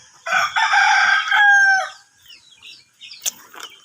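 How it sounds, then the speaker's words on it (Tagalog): A backyard gamefowl rooster gives one loud, close crow that trails off, followed by a few faint clucks and rustles. "Ito yung ating mga manok sa ating backyard."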